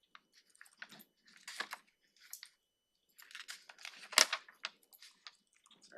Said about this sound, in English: Sorry, there's some of the keyboards.